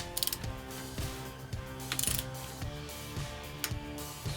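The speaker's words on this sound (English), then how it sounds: "So I usually start by torquing them in a cross pattern." A ratchet clicks in short repeated pulls while torquing bolts on a 1971 Volkswagen engine, each stroke a crisp run of pawl clicks at a steady rhythm, close and fairly quiet.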